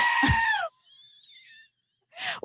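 Soundboard button effects of a screaming goat are played during a talk show. Two loud, wavering bleat-like screams are separated by a faint whistling gap and a brief silence.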